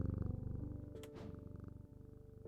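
A cat in the video game Strange Antiquities purrs steadily while being petted, a close, soft rhythmic rumble with an even pulsing beat throughout and a brief higher chirp midway.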